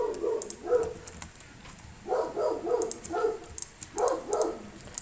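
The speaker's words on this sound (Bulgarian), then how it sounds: "Кучето ми лай." A dog barks in the background in several clustered bursts, moderately faint and somewhat distant, over quiet room noise with light clicking.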